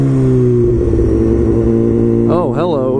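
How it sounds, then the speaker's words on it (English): A motorcycle engine runs steadily and loudly close by, then near the end gives a couple of quick rising-and-falling revs with a whine on top. "let me start my bike up."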